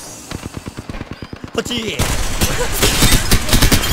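Rapid automatic weapon fire in Apex Legends, a steady fast rattle of individual shots that swells into a louder, denser barrage of overlapping gunfire, with someone speaking briefly over it.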